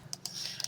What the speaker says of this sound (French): on entend mes gros clics de barbare